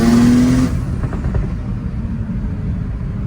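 A tuned BMW X3 M40i engine gives a short, loud rev with a whining turbo tone, then drops back to a low, rumbling idle.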